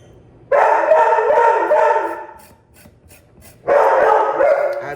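A dog barks loudly and close indoors, with a long run of harsh, howling barks, a brief pause, then another burst, and no talk over it.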